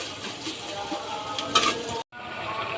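Vegetables fry in a bagar (phoron) tempering of browned onion and garlic in a pan, giving a steady close sizzle with stirring scrapes and light clinks and a brief dropout midway.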